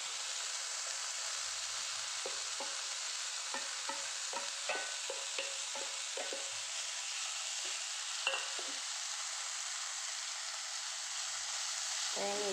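Taro stem thoran with grated coconut being stirred in a pan, a spoon scraping and tapping in a steady run of short strokes over a faint continuous sizzle.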